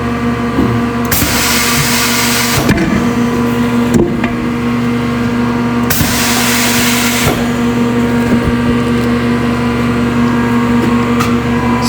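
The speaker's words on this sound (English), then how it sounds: "I'm just going to rotate the tire." A tire changer machine rotates a tire off a BMW R1250 motorcycle rim, a steady mechanical drone with two long bursts of loud whirring, continuous and close with no talking.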